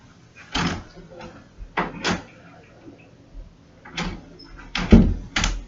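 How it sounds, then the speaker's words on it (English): A door swings and bumps shut several times, closing onto a belt knotted at each end for a martial arts exercise, with irregular knocks and soft thuds spread across a quiet room. "put the flat side in the door and close the door on it"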